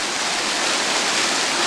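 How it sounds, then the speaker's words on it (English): Water pouring down steadily in a fountain in a Rome plaza, a dense, even rushing splash heard up close and alone. "The water coming down. These waterfalls, the fountain"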